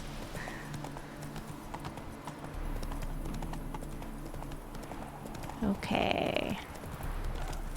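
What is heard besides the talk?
horse galloping in video game The Witcher 3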